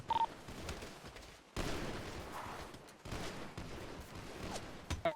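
Dense gunfire in the video game GTA, with bursts of shots rattling in three long stretches and brief pauses between them, loud and busy throughout.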